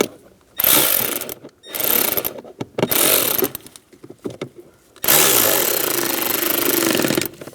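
A ratchet tightens the bolts on a blower motor resistor in a 1999-2006 Chevrolet Silverado 1500, three bursts of loud, rapid clicking close up with brief gaps between them.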